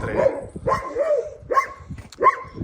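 A dog gives four loud, close barks spaced about half a second apart, each with a slightly whining, tonal edge, heard indoors or in a yard with faint background noise between barks.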